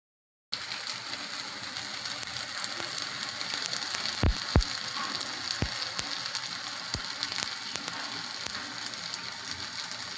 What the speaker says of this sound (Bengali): এখন 5 মিনিট অল্প জালে ভেজে নিব